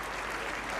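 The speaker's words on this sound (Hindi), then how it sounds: "जोरदार तालियां हो जाए मैम के लिए." Audience applause for a guest at a school annual fiesta, a steady, dense wash of clapping from a crowd that holds evenly for under a second.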